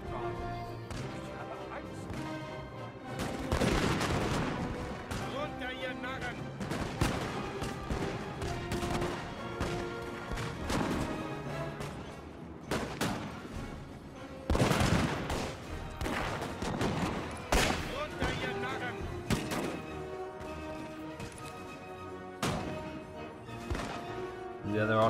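Musket volleys from line infantry in Napoleon: Total War crash out as dense, crackling bursts. Several big volleys land a few seconds apart over a constant roar of battle, with a commentator's voice faintly underneath.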